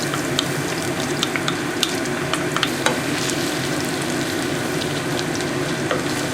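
Six cloves of peeled, minced garlic sizzle steadily in a pan of melted butter and oil over high heat, a continuous close frying hiss with small scattered pops and crackles and no talking.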